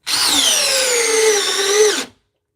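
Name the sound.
DeWalt drill in speed 2 driving a screw with T30 bit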